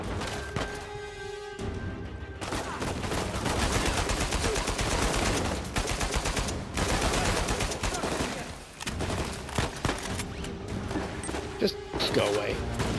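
Heavy, near-continuous gunfire and impacts in the Uncharted 4 video game, loud and dense throughout with brief lulls, with game voices in places.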